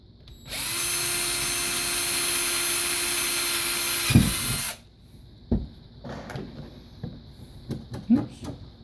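A hand drill bores into a kydex holster with no drill press: a loud, steady high whine for about four seconds, then it stops, followed by scattered knocks and rubbing handling noises.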